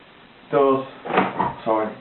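A door opens and closes a few times up close, each move giving a short creaking, scraping burst separated by brief pauses.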